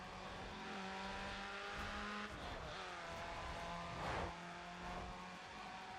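Race car engine in Need for Speed: ProStreet held at steady high revs with shifting pitch, a brief surge near the middle, and faint tyre scrub throughout.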